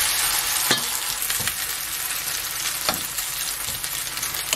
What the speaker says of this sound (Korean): 약간 기름이 이렇게 자글자글 가죽으로 끓는 게 있어야지 맛있게 잘 구워집니다